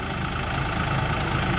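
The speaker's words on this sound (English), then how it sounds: "This is a big tractor" Steady rumbling of a big tractor engine idling nearby at a county fair sawmill, loud and continuous with no voices.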